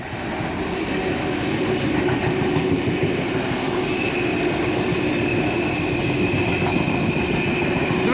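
A Sydney Trains S set rumbles past on the outer track at Turrella, its steady wheel-on-rail roar and clatter loud and close throughout, with a faint high whine appearing partway through.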